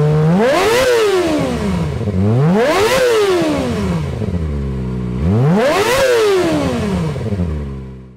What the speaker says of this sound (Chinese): 你们应该想直接听听看这支排气管这个油门吹起来会是什么声音